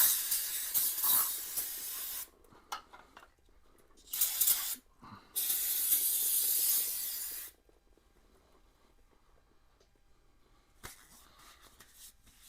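Cleaner sprayed onto the brake-fluid-covered front brake master cylinder of a 1987 Honda GL1200 Goldwing hisses close up in several short bursts, then one long sustained spray, silence, and a final burst.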